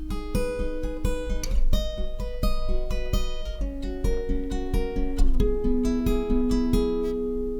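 An acoustic guitar is fingerpicked in a steady thumb-and-finger pattern through the chord shapes of a song, clear and close, notes ringing over a repeating bass line with no talking.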